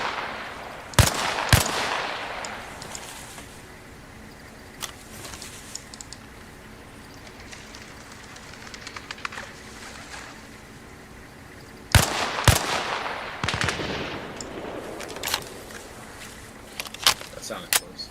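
Gunfire in Arma Reforger: bursts of sharp shots at about one and twelve seconds, with scattered fainter distant cracks in between, under talking voices.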